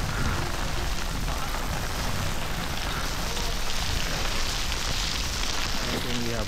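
Steady rain falls outdoors at a castle in Osaka, Japan, a loud, continuous hiss of drops hitting surfaces with no pause and a faint voice near the end.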